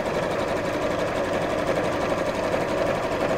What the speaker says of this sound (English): I'm only top stitching, and just sew along each side.